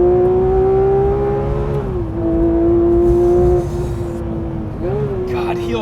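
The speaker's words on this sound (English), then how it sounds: "Okay, Yuri, allow me to drive, please, because we are never going to drive this car ever again" A Porsche 911 S/T sports car engine pulls hard and close-up, its tone rising and dropping with gear changes under continuous chatter from inside the cabin.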